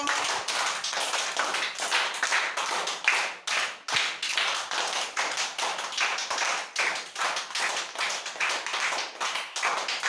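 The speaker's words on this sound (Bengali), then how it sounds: "হাততালি দিতে শুরু করো" Rapid, steady hand clapping by children in a primary school classroom fills the whole stretch, loud and close, with brief uneven pauses and no talking.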